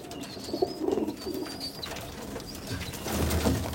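Abluk pigeons in a home loft give low cooing calls close by, with a thin high whistle-like tone and steady background noise around them.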